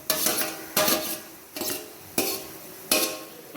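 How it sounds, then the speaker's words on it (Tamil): Spoon stirring chopped fruits into rava kesari in a pan, five evenly spaced scraping strokes against the metal with soft thick mixing between them, close and with no talking. "ஆட் பண்ணிவிட்டு அதை நல்லா நீங்கள் மிக்ஸ் பண்ணி விட்டுருங்க"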